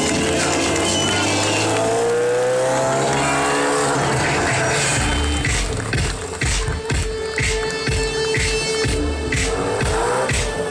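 A car accelerating gradually, its engine note climbing steadily and staying loud and close throughout, with squealing tires breaking through in the second half.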